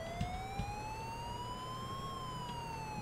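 Siren in the LSPDFR police video game, a steady rising-and-falling electronic wail lasting throughout at even loudness, with a couple of faint low knocks beneath and no talk.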